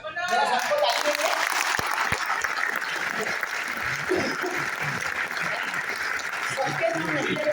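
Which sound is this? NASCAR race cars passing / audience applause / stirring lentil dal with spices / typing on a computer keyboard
audience applause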